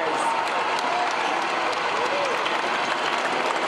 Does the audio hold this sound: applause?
yes